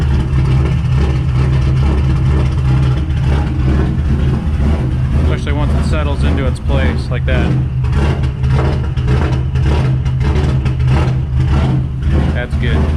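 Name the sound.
Subaru EJ257 engine running after first start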